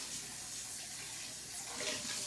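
A kitchen tap runs into a sink, rinsing a prep bowl during vegetable slicing with a mandoline; a soft, steady water hiss continues throughout at modest, close-up volume.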